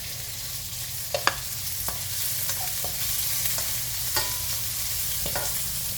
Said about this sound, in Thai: หมูสามชั้นใส่ลงไปค่ะ ใส่ลงไปผัดค่ะ